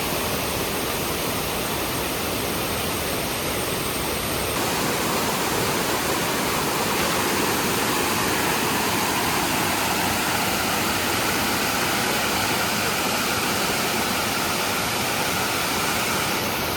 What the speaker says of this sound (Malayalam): നമ്മള് കേവ് കണ്ടിട്ട് വന്നത് ഈ കാണുന്ന വെള്ളച്ചാട്ടത്തിലാണ്